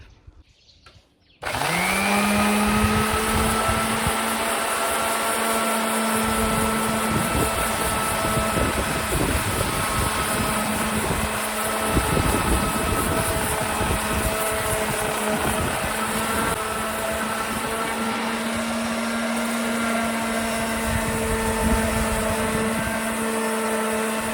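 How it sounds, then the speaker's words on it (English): A power sander starts abruptly and runs at a loud, steady whine on a braided DIY tabletop, close by, its tone wavering slightly as pressure shifts, with no talking. "but I really want to sand"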